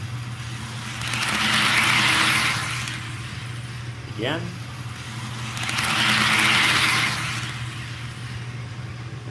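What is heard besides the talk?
Rapido SD10 model train locomotives running on track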